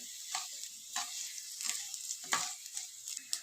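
Tempering spices for chitranna frying in oil in a pan, giving a continuous close bright sizzle with intermittent stirring scrapes.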